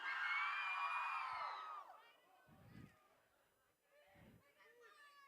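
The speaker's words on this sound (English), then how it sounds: "On the count of three, and I need you guys to scream." A live audience at an evening event screams and cheers loudly on cue, a dense burst of shrill voices that fades within about two seconds into scattered whoops and murmuring.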